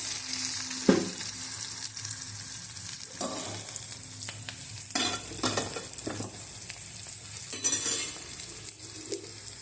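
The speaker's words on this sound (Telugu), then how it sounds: "ఇప్పుడు మనం కాకర ముక్కలు వేసేద్దాం." Chunks of bitter gourd sizzle and fry in a pan for a bitter gourd and jaggery tamarind dish, a steady hiss of hot oil broken by occasional stirring scrapes and clinks of a utensil against the pan.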